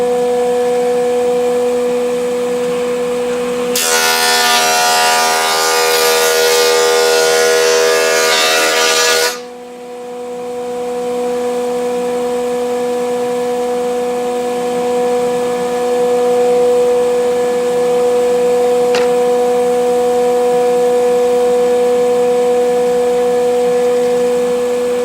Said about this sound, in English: start feeding these handle pieces through the planer